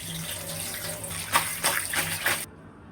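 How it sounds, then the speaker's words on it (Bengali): Fish being rinsed with salt under running tap water, a steady stream splashing into a sink with a few louder gushes of handling near the end before it cuts off. "একটু লবণ দিয়ে ধুয়ে নেব, ভালো করে পরিষ্কার করে দেবো।"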